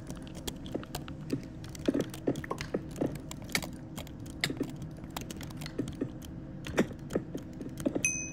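Rapid mouse clicking from butterfly-style clicking during a Minecraft Hypixel The Bridge match, an irregular stream of quiet sharp clicks in quick bursts over a low background hum.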